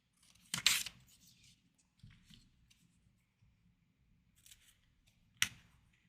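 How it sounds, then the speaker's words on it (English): Scissors snipping through paper as pictures are cut out, a few quiet, close cuts scattered over a few seconds with soft rustling and handling noises between them. "So we're going to cut out each picture."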